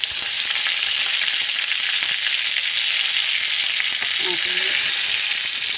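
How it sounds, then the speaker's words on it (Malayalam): Onions frying in oil with curry leaves tossed in for a Kerala prawn curry, a steady, loud, broad sizzle running throughout, with a brief faint clink near the end. "നമ്മൾ ഉള്ളിയൊക്കെ മരിഞ്ഞ് വന്നു വേപ്പിൻ്റെ ഇല ഇടുന്നു"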